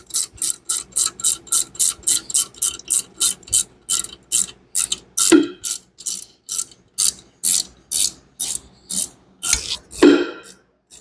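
A ratchet wrench tightens an intake adapter bolt on a turbo 460 Mustang, cranking in a steady train of rapid clicking strokes with brief pauses, close and clear, with no talking.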